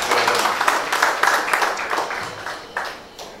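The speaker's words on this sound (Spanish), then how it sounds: "Y aplauso a Pablo" An audience at a Viva La Musica Latina cocktail party in Curaçao applauds for Pablo, a short burst of scattered clapping that gradually thins out and fades.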